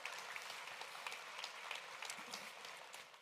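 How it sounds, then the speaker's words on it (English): Applause from an audience at an e-commerce festival, steady clapping from many hands with scattered sharper claps, fairly faint and tapering slightly at the end. "everyone, round of applause, please,"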